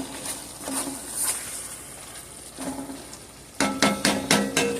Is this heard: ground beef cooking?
yes